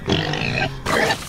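Pig-like monster in a horror video game letting out two harsh, guttural grunting snorts, loud and close, with a short gap between them.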